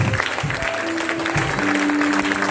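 Congregation clapping during a worship service, a dense steady wash of applause with faint sustained tones underneath, continuous and fairly loud throughout.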